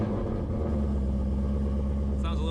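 A 1000 hp Dodge Hellcat rumbles steadily with its exhaust cutouts open, a deep continuous drone close by that keeps one level for a couple of seconds.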